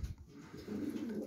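Pigeons in a loft coo softly, a low murmuring burst near the start followed by a steadier, somewhat louder cooing through the second half, with no talking.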